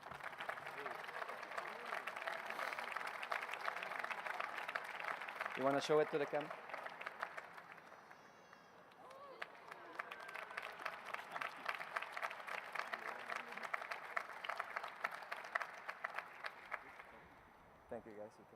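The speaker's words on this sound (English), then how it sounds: "please give them another big round of applause for their achievement" Audience applause at a graduation ceremony, a sustained crowd clapping that fades briefly and then swells again, with a person speaking over it and a few brief tones in the middle.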